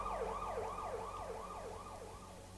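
A fire engine siren wails in fast, repeating rising-and-falling sweeps, steady and moderately distant, slowly fading a little.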